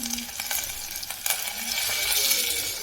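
Chopped onion sautés in hot oil with mustard seeds and cumin, making a steady close sizzle broken by a few stirring scrapes and light clinks from the pan.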